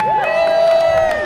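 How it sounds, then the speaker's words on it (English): A crowd cheers and whoops for runners passing through the market square at the Malton 10k road race, with a steady, loud burst of voices and a high whistle-like tone running through it. "Keep the round of applause going."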